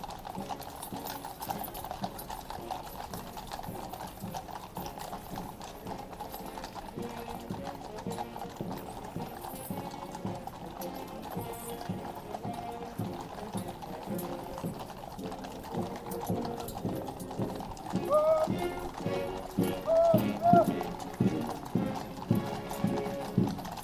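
Horse hooves clip-clop on a road in steady rhythm, a mounted Horse Guard near St. James's Palace riding alongside a marching band, continuous and moderately near, with a faint whinny and background bustle.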